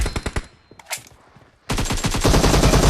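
Automatic gunfire in the game PUBG: rapid bursts of loud shots, a short pause, then a long sustained volley of dense rattling fire.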